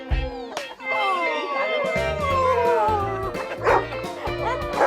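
A cartoon Chihuahua yaps and whimpers in a high, squeaky voice, with short excited barks and whines sustained across the whole stretch against a light musical background.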